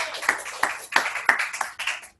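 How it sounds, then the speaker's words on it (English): Scattered hand claps from a small group at a team meeting, a few sharp louder claps standing out over about two seconds before stopping abruptly. "So let's give them a huge round of applause as well."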